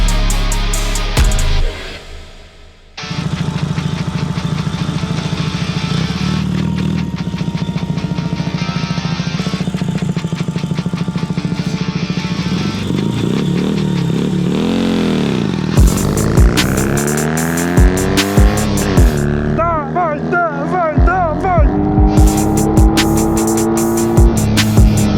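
A Ural motorcycle engine runs loud and close, idling steadily before revving and accelerating with rising, wavering pitch and sharp bursts near the end.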